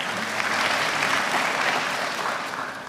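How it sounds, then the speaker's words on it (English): Sustained audience applause at a graduation ceremony in the Gambia, a steady wash of many hands clapping from a crowd, holding level for a few seconds before easing slightly. "Awa and Mr. Banja, a round of applause for them one more time."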